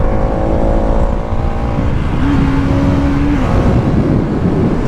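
A Bajaj Pulsar NS200 BS-6 motorcycle engine drones steadily while riding, loud and close, with a brief rise in engine pitch midway, and wind rush over everything, with no voices.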